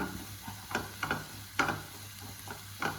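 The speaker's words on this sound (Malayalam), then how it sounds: "നന്നായിട്ട് ഇളക്കി യോജിച്ചെടുക്കും. ചീരയും മുട്ടയും കൂടി നന്നായിട്ട് യോജിച്ച് വരാം." Spinach and egg being stirred together in a pan for palak poriyal, with a few soft scraping strokes over a low sizzle, close by and fairly quiet.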